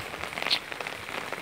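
Heavy rain falls steadily outside a house during a downpour that has left everything full of water, a dense, continuous hiss of drops hitting surfaces nearby with no voices.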